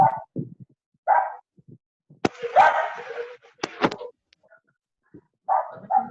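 Small dogs bark in short bursts nearby, with scattered yaps and one louder run of barking in the middle, interrupting a quiet indoor setting.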